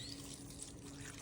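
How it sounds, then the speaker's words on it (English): Water pouring steadily over spaghetti noodles and pasta sauce in a slow cooker, a continuous close trickling splash with no talking. "Now we're gonna add 4 cups of water."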